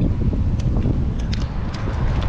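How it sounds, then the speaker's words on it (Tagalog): Strong wind roars steadily against the microphone, a dense low rumble with a few faint clicks scattered through it. "Malakas po yung hangin."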